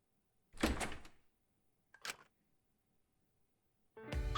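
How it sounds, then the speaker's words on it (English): A door opens in the video game Danganronpa V3: Killing Harmony, heard as a few short, soft thunks and rattles separated by silence, followed by a fuller burst of sound at the end. "I went to open the door."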